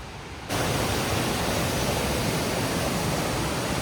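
A waterfall roaring in a steady, dense wash of rushing water that swells up after half a second and stays loud and constant, with no voices.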